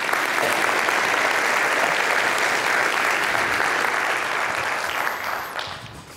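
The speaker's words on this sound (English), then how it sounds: "let's give him a round of applause and welcome to the stage." Sustained, loud applause from a conference audience welcoming a speaker at a Texas Medicaid reform event, a dense even roar of many hands clapping that tapers off near the end.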